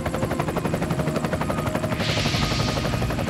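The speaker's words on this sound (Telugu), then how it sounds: "ఆ హెలికాప్టర్ మన సిటీ వైపే వెళ్తోంది." A helicopter flying toward a city, its rotor beating in a fast steady rhythmic chop with a loud engine whine, joined by a rushing hiss in the second half, no voices.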